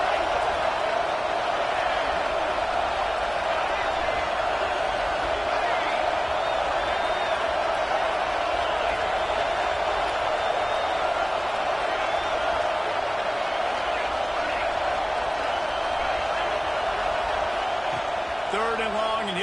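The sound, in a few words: home stadium crowd cheering loudly at a college football game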